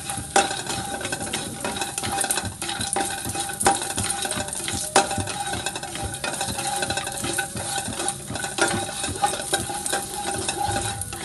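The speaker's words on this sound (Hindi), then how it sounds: "अब इसमें मैं वापस थोड़ा घी डालूँगी और इसमें हम थोड़े से जो काजू हमने निकाले थे उसे तल लेंगे" Cashews and almonds frying in ghee in a pan, giving a steady close sizzle with scraping stirs and light clinks of a spoon against metal throughout.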